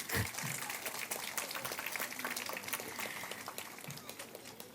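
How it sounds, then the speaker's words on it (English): An audience claps steadily for actor Rajit Kapur at a literary event honouring Saradindu, a dense, even wash of many hands sustained throughout with no talk over it. "Please give him a round of applause."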